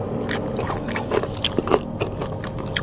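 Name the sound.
biting crunchy Jollibee fried food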